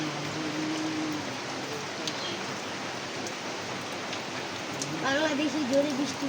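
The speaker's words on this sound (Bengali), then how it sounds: "প্রচুর বৃষ্টি বাংলাদেশে এখন পর্যন্ত বৃষ্টি" Heavy rain falls in a Bangladeshi village as a steady, even wash of patter. A voice briefly rises over it toward the end.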